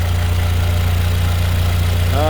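Mercedes-Benz GLA45/A45 AMG 2.0L tuned to over 600 hp idling just after start-up, a steady loud low engine drone with an even hum throughout and a faint rising whine at the end.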